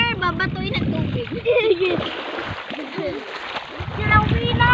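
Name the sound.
water splashing on the winner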